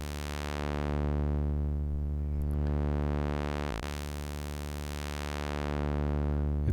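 IK Multimedia Uno synthesizer playing a sustained buzzy tone through its bandpass filter, the filter slowly sweeping up and down in smooth waves, one brief note re-trigger midway, no talk.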